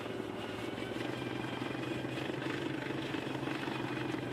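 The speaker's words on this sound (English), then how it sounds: "This industrial snowblower uses an auger to collect snow and an impeller to launch it far away." An industrial snowblower's auger and impeller throw snow with a loud, steady engine drone and churning whir, close and continuous, with no voices.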